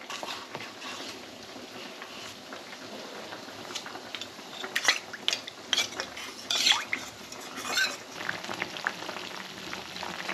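Chilli chicken ingredients bubble quietly in a pan, a soft, steady simmer broken by occasional light clinks and scrapes.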